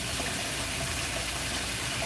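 Water runs steadily from a tap as it warms up in a hair salon. The stream makes a constant, dense gushing hiss that is close and uninterrupted, with no voices.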